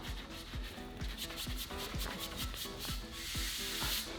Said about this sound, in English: Grind that chalk in.